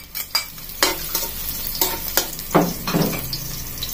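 Garlic sautéing in hot oil for spaghetti, a bright close sizzle with several quick spatula scrapes and stirs against the pan.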